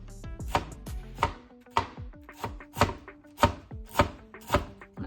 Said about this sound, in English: Stems and leaves, finely chopped.